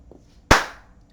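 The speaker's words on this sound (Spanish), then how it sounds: "si yo aplaudo" One sharp, loud hand clap right up close, with a fast attack and a short decaying tail in an otherwise quiet room.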